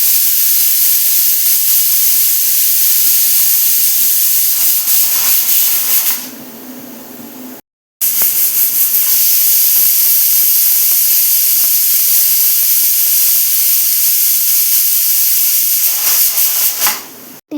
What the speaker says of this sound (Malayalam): നമ്മുടെ ഈ കുക്കർ വിസിൽ വിളിക്കുന്നത്